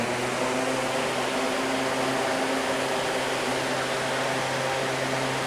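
A 20-inch Hyper Tough sealed-motor drum fan runs steadily on its lowest setting, a constant whooshing airflow with a low motor hum and no change throughout.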